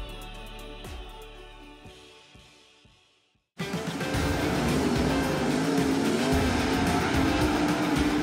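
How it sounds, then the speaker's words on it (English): Race car engines roar at Cedar Lake Speedway near New Richmond, Wisconsin. The clip opens with one car fading away, goes briefly quiet, then a dense, loud, continuous roar of many engines that holds steady to the end. "you hear engines roaring in the distance, you're probably not far from Cedar Lake Speedway"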